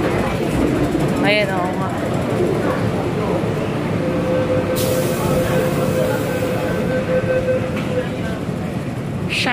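Ride on a train bound for Hong Kong Disneyland, a steady rumble of rail travel running throughout with voices talking over it and a brief high tone partway through.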